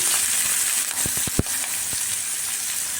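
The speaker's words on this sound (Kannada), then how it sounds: "ಇವಾಗ ನಾಲ್ಕು ಮೆಣಸು ಹಾಕ್ತಾಯಿದ್ದೀನಿ ಒಂದು ಅಪ್ಪಿ ಹಾಕ್ತಾಯಿದ್ದೀನಿ" Dried chilies dropped into hot oil while tempering for a pumpkin sambar, giving a steady close sizzle with a few sharp pops and crackles partway through.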